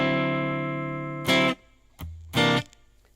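An electric guitar chord rings out through an amp's reverb and slowly fades with a reverb tail, interrupted by two short bursts of scratchy, noisy strumming.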